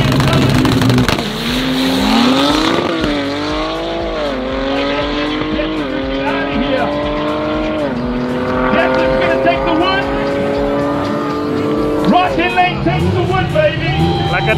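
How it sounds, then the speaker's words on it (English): Two Toyota Corollas with 2J engines drag race at a South African event, engines revving hard and climbing through several gear changes, loud and close, with a commentator talking over them. "Corolla versus Corolla, 2J versus 2J."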